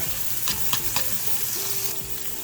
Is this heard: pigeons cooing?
no